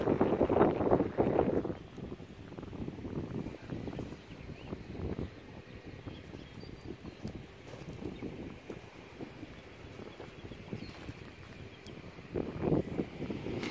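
Gusty wind buffets the microphone, rumbling in bursts at the start and end with a steady rough roar between.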